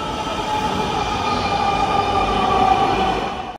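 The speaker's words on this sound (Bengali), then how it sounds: "यहाँ पर जैसी ये मेट्रो रेल जो है गुजरती है" A Dhaka MRT Line 6 metro train rolls past, a loud sustained rumble and rushing roar with a faint tonal whine that holds steady before cutting off sharply, no voices over it.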